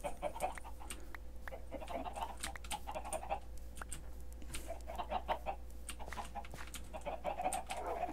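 Chickens in Minecraft cluck in short repeated bursts over a faint steady background hum, quiet and close, with occasional soft clicks in between.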